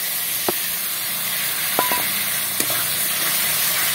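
Masala paste fries in a pan for a Bengali-style fish roe dish, a steady, close hiss and sizzle with a few faint clicks of a utensil against the pan.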